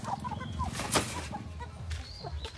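Chickens cluck close by in a rural yard, giving a string of short, uneven clucks and squawks with a brief louder cry in the middle. No one speaks over them.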